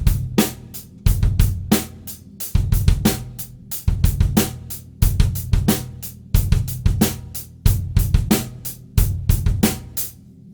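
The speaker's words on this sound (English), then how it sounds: "These comprise exercises with 3 bass drum placements." On a drum kit, a funk and rock coordination exercise sets three bass drum placements against a steady, unchanging ostinato. Tight, regular cymbal and snare hits run over clustered low kick thuds, repeating bar after bar, close and prominent, with no talking.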